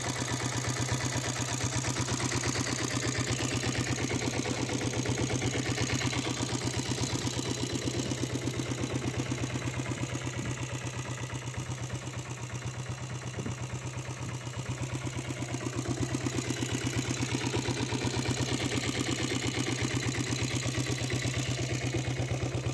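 A Royal Enfield Bullet diesel motorcycle engine idles steadily for a long stretch, a close, even low thumping that dips slightly midway before returning to full level.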